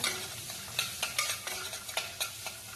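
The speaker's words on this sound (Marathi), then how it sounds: "काजू घालूया, ड्राय रोस्ट केला, याला छानपैकी रोस्ट करून घेऊया" Cashews dry roasting in a hot pan, stirred with a spoon, giving a steady soft sizzle and rustle broken by a series of scraping, clinking stir strokes at an irregular rhythm, close and moderately loud.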